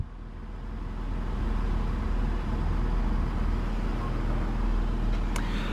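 A 2011 Volkswagen Touareg 3.0 V6 TDI diesel idles with a steady, low, even rumble that swells slightly in the first second and then holds constant, with no talking.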